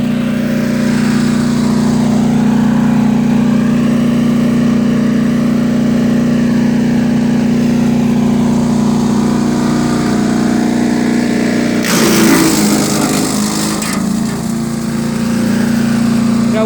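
A DR 208cc 9.5 chipper shredder engine runs loud and steady throughout, with a burst of wood being chipped and shredded near the end before the engine settles back to its drone.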